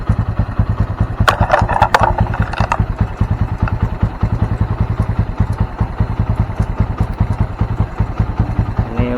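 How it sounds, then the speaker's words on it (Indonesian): A Honda Mega Pro motorcycle engine with a charging fault, cold, running at a steady close idle with rapid even firing pulses and some mechanical clatter, loud and alone throughout. "Kita hidupkan"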